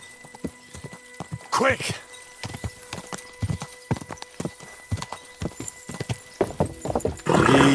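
Horse hooves clip-clopping in a steady rhythm with a whinny, from the medieval video game Kingdom Come: Deliverance II, heard under a man's speech and ending with a louder burst.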